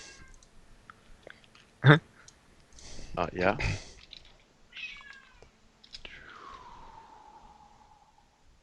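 A cat yowls and meows excitedly in the background of an online Dungeons & Dragons Curse of Strahd session, ending in a long, drawn-out falling cry, with scattered clicks and people talking nearby.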